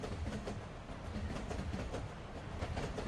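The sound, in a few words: model Union Pacific train running on tracks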